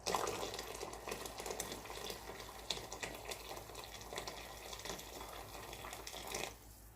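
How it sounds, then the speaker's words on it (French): Boiling water poured into a pot of chorba soup broth, a continuous splashing gush with bubbling that tapers off near the end, no voices. "comme le bouillon il a un peu réduit, moi je vais rajouter de l'eau bouillante"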